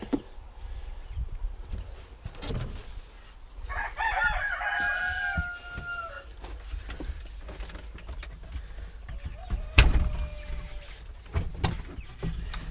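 Farm chickens clucking with a rooster crowing nearby, several crows rising and falling over steady low clucks and outdoor background noise.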